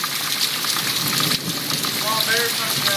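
A summer thunderstorm with steady heavy rain hissing continuously at close range, while faint voices talk in the background.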